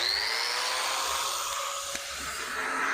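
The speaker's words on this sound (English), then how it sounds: "You want to turn on the vacuum?" A grinder cuts concrete with its vacuum dust-extraction system running, giving a steady high-pitched whine with a faint rising tone and a brief knock midway, continuous and fairly close.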